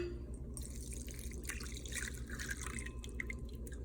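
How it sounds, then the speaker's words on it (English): Strained bacon fat trickles and drips as it is poured off for a chicken fried steak white gravy, a faint, close liquid sound with no talking. "So now I'm going to go ahead and pour my bacon fat over here."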